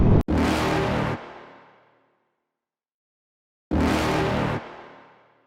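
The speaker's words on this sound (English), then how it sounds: "So today I'm riding the new Yamaha NVX." A 2021 Yamaha NVX performance scooter engine gives two loud revving bursts, each about a second long and trailing off, separated by a pause of near silence.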